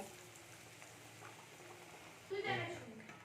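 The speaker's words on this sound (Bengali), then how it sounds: "এটাও আমি সব ভেজে নেব" Tomato chops and battered pakoras frying in oil make a faint, steady sizzle, with a louder burst near the end as more pieces go in, and a voice speaks softly over it.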